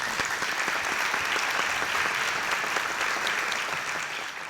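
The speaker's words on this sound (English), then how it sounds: "Please join with me in giving all district students, staff, and schools a round of applause." Audience at a school district board recognition ceremony clapping for students, staff and schools, a full, sustained round of applause that stays steady and then tapers slightly at the end.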